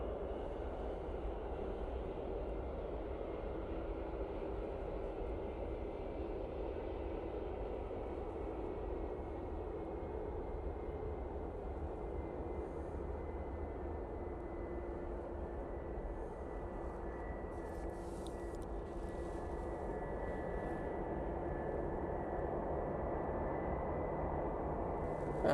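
Eurowings airliner arriving from Dusseldorf at Manchester Airport, a faint, distant, steady engine rumble that holds evenly throughout with little change in level.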